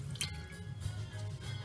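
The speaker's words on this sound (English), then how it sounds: "I'm just dipping it in some hot water before I put it over the stove and melt it back down" A container of leftover sloppy joe sauce is dipped into hot water, giving soft drips, light sloshing and a wet squish at close range, quiet and unhurried with no talking.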